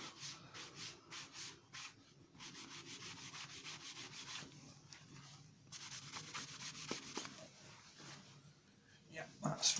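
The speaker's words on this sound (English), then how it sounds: "a last wipe over with a soft cloth" Soft cloth wiping over a waxed book edge during bookbinding edge decoration, a steady series of close, quiet rubbing strokes with an uneven rhythm and brief pauses between passes.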